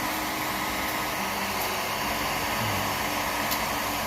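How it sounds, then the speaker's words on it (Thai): Hot air blows steadily around a bottle to shrink its capsule seal, a constant loud whooshing hiss like a hair dryer that runs without a break. "ทำการเป่า ครับนี่นะครับ กับเป่ารอบขวดไปเรื่อย ๆนะครับ"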